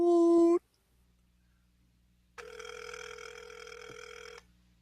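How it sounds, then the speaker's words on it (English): A phone ringing through a speaker, one short electronic burst followed after a gap by a longer ring tone, faint and thin over low background hum. "It's ringing."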